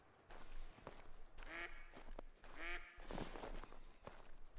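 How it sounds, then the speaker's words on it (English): Ducks quacking in theHunter: Call of the Wild, two or three distinct nasal quacks at mid distance over a steady outdoor ambience with soft footsteps. "A few more ducks."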